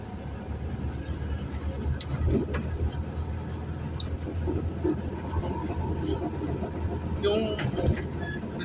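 A 1978 Volkswagen Beetle (Fusca) driving through the city's east side on an autumn Sunday, its engine and road noise forming a steady, moderately loud rumble with rattles heard from inside the car.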